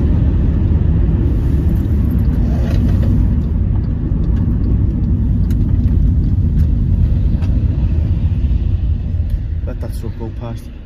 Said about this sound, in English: Let that truck go past.